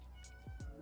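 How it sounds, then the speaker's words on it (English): A cat gives two quick, desperate meows close by, falling in pitch, over a faint steady hum with no talk. "That meow of desperation is crazy."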